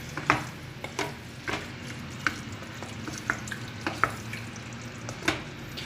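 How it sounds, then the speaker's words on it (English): Pav bhaji being mashed in a pan with a wooden spoon, soft wet squelching under a low sizzle, with regular thuds and scrapes repeating about every half second, quiet and close. "we're gonna mash it more with our wooden spoon"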